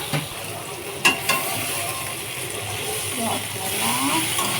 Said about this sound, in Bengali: এখানে পেঁয়াজ আদা রসুনটা এই যে লাল লাল করে ভাজা হচ্ছে